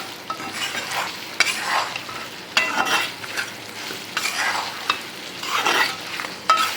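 Mango pieces are stirred into a sizzling, frying pickle mix in a pan for fried mango pickle, with repeated scraping strokes over a soft, continuous fry and no talking.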